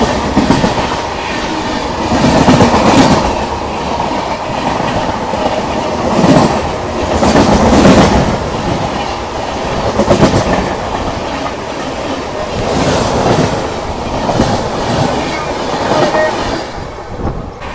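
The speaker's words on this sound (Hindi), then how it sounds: "लो भाई कोई तो ट्रेन आई है" A Rajdhani express train passes a railway crossing, its wheels clattering loudly and close by in a rhythmic series of surges, with rumbling carriages between the beats until it fades at the end.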